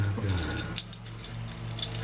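A bunch of keys jangling in hand before a Carolina cold start of an old engine, light metallic clinks and rattles in irregular bursts, close and fairly quiet.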